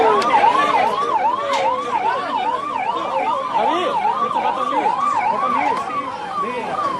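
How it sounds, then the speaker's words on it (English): Convoy sirens wail outside the ITC Maurya hotel gate in India, loud and close, with several vehicle sirens overlapping in rapid, continuous cycles of rising and falling pitch. "so we can now hear the sirens, which means that the pilot vehicle and the convoy, the cavalcade, is going to leave anytime soon"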